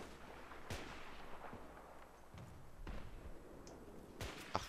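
Gunshots in a video game: a few sharp, separate shots spaced out over a quiet background, with some faint distant booms between them.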